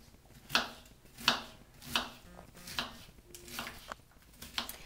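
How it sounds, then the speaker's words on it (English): A knife cuts onion into small pieces for a dip, producing a steady series of close, crisp chops against a cutting board, about seven or eight evenly spaced strokes that grow slightly softer. "Start slicing it into small little pieces."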